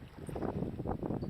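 Kayak paddling across a windy sea toward Long Key, with close watery splashes and sloshing under gusty wind buffeting the microphone.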